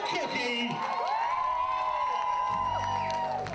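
Audience at a drag performance cheering, whooping and applauding for Cookie, a loud, steady wash of voices and claps with a few high shouts standing out.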